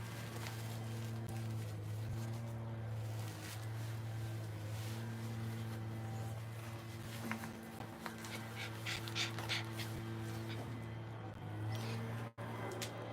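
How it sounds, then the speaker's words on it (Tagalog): A small male Pomeranian dog panting softly and quickly nearby, faint breathy puffs over a steady low hum. "he is a male dog. Our male Pomeranian here"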